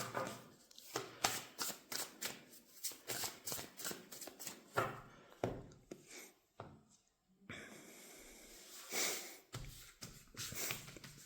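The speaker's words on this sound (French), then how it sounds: "Alors on va aller voir, on va tirer les cartes." Tarot-style cards shuffled and drawn for a Sagittarius spring reading, a run of quick papery riffles and soft slaps close by with a short pause before more handling.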